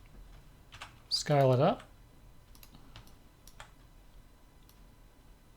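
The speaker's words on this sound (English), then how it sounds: "pressing 1 on the numeric keyboard to get to my side view" Computer keyboard key presses at a desk while modelling in Blender, a few soft, sparse clicks scattered through the clip, with a brief spoken phrase partway in.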